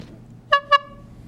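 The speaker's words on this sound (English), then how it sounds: "Me and Jamie will honk the horn." Two quick, bright car horn honks in a row, short and close, against a quiet background.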